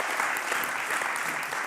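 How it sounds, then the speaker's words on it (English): An audience at a data visualization talk gives a brief, steady burst of dense applause that fills the short moment alone. "Yes, applause."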